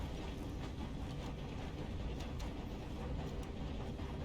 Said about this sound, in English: There is a train crossing it now.